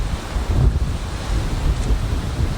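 Outdoor wind buffets the microphone in a constant low rumbling roar with gusty surges, loud and unbroken, with no one speaking.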